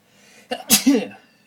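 A single close, sharp sneeze with a brief inhale before it, loud and sudden in otherwise quiet surroundings.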